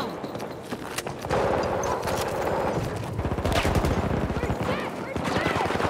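Rapid gunfire bursts and automatic weapon fire from the video game Battlefield 2042, on a Redacted multiplayer map, dense and continuous with overlapping shots, footstep-like clatter and faint voices under the din.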